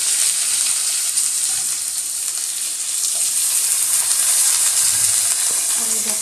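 Potato pieces fry in hot oil in a home kitchen, giving a dense, steady bright sizzle that fills the whole stretch up close, with a few faint clinks beneath it.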